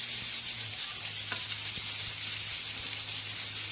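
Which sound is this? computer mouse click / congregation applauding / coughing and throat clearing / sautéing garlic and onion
sautéing garlic and onion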